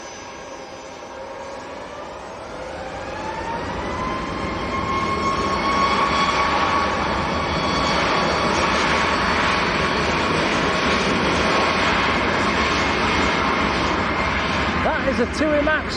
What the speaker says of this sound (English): A TUI Max going down to Dalaman.